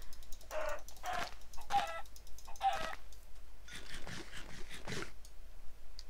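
Chickens in the Minecraft video game give several short clucks in bursts, spaced through the moment, fairly faint with a steady low background hum and no talk.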